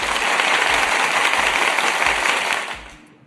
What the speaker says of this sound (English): I think we can clap it up